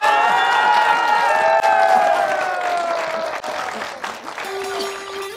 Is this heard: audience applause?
yes